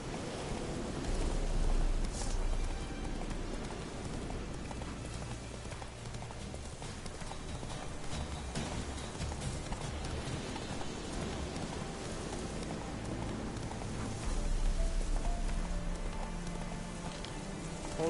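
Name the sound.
horse Roach galloping, from video game Witcher 3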